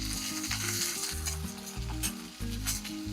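Cauliflower florets, washed and drained, tipped into hot oil tempered with curry leaves and chopped green chillies for no-onion, no-garlic pohe; a loud, steady sizzle and spatter runs throughout with a low musical tone underneath.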